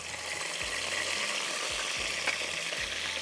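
Curry leaves fry in hot Italian pomace olive oil, giving a steady, close crackling sizzle throughout, with faint low knocks from the pan recurring at regular intervals.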